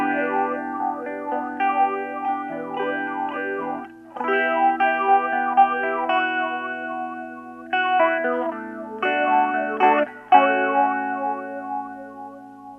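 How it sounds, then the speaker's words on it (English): Guitar run through a Blue Dinosaur Interstellar Watermelon pedal, its chords warped by a warbling, vowel-like vocal effect that sweeps and wobbles through each strummed phrase, with choppy, modulated swells fading in and out. "you still get the nice vocal effect that is most prominent in the reverse mode"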